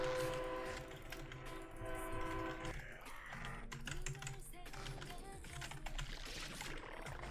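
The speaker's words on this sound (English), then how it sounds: "Sorry about the train in the background" A train passing in the background, its horn sounding at the start and then a low rumble rolling on, mixed with nearby computer keyboard typing.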